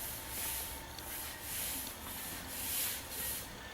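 Concrete sealer hisses from a sprayer onto a new warehouse floor in soft, pulsing bursts, a steady airy spray that swells and eases several times.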